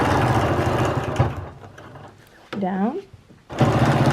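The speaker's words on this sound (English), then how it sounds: "Then stitch this way" Domestic sewing machine doing free-motion quilting of flowers along a ruler, with a steady close mechanical whir that pauses mid-clip while someone speaks briefly, then resumes.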